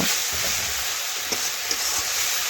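Boiled jackfruit and potato being stirred and fried in spice masala, a steady close-up hiss of frying with a few soft scrapes of a spatula against the pan.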